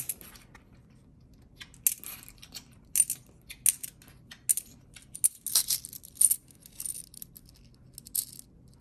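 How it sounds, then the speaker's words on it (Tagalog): Coins dropped one by one into a prosperity bowl for the 2024 Wood Dragon year, giving a series of bright metallic clinks and jingles at irregular intervals, close and fairly quiet over a low background hum. "So, ang next natin ilalagay ay yung ating barya."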